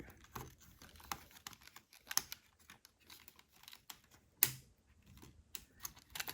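Plastic side clips of a Lenovo ThinkPad SL410 laptop keyboard pushed in and the keyboard lifted off, giving sparse close clicks and light taps with one sharp snap partway through, over a quiet background.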